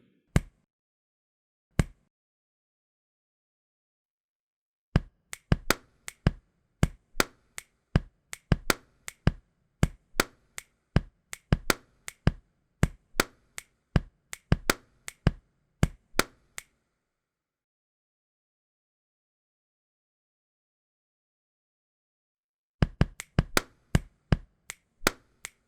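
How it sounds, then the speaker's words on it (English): Body percussion beat of finger snaps and chest bumps, sharp dry hits in quick funky patterns with an opening pair of single hits and long silent gaps between groups, close and clean. "play again with a finger snap and a chest bump on the and of 3"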